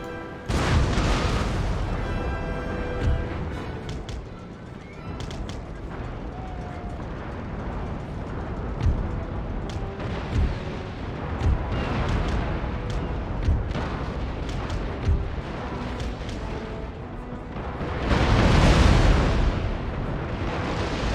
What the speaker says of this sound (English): there goes another explosion right next to my own ship.